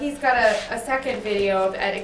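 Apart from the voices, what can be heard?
No distinct noise like a dog, phone or traffic.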